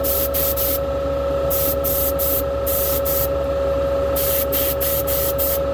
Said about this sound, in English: I'm spraying this at about 28 psi.